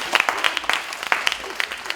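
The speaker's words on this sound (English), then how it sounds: "give her a round of applause" Sparse clapping from a small audience at a beauty pageant training session on success and personal branding, a few scattered claps close by with irregular spacing and light voices mixed in.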